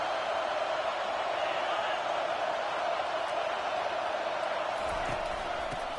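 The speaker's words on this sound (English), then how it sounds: "It is getting loud as this crowd tries to help its defense." Loud football stadium crowd roaring steadily throughout to support its defense, a dense continuous wash of noise with no clear pauses.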